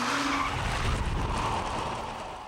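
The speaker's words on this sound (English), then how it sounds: "Hydraulic jacks on the corners of a cradle lift the wheels on a road car so that it skids easily" A road car slides on a hydraulic skid cradle whose corner jacks lift the wheels, giving a continuous loud tyre skid with steady engine roar throughout, close and without speech.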